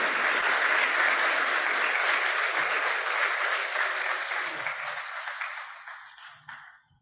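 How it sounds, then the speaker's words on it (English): An audience at a youth innovation forum applauds loudly and steadily, a dense wash of clapping that thins and fades out over the last couple of seconds. "Thank you for the round of applause"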